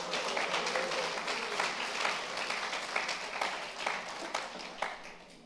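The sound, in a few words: church congregation applauding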